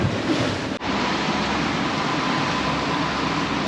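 Choppy sea off Rodriguez Key heard from a boat, a loud constant rush of wind and water with a brief dropout near the start.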